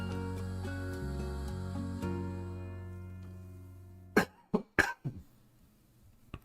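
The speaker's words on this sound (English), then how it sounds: "Sorry for that cough." Several sharp coughs from a man on a live talk stream, four or five bursts in quick succession after a fading tonal hum, close and loud.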